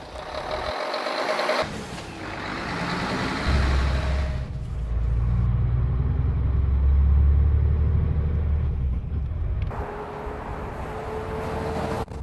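A Mercedes-Benz truck's engine rumbles low and steady as it pulls away and gathers speed, with brief mechanical clunks and a higher whine near the start and end.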